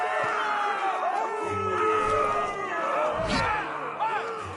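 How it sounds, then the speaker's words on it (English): An arena crowd in a Game of Thrones game roars and cheers, many voices shouting and whooping together in a sustained, dense wall of noise. "We cannot let the crowd go wanting!"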